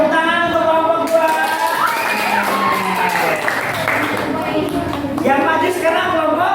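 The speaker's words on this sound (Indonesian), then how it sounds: "Tepuk tangan untuk kelompok 2" Classroom applause for a student group during a maths lesson, a dense continuous patter of clapping mixed with cheering and shouting voices from a crowd of students, loud and steady throughout.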